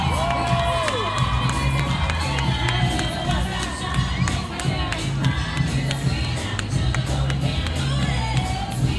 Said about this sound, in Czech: Tak prosíme o potlesk, dámy a pánové, to byla Janice Hautbrakenová.